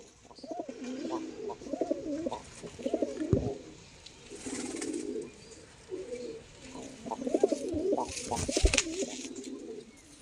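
A male Saharanpuri pigeon coos close by in repeated rolling phrases, in two bursts separated by a short pause, with faint background noise and a few sharp knocks.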